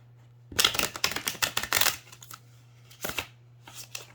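Tarot cards riffle in a bridge shuffle, a close rapid fluttering burst lasting over a second, then a shorter riffle after a pause, over a low steady hum.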